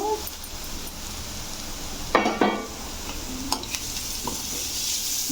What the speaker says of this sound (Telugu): వేగిన తర్వాత క్యారెట్ తురుము తీసుకున్నాను, అది తురిమి పెట్టుకున్నాను. క్యారెట్ తురుము వేస్తున్నాను.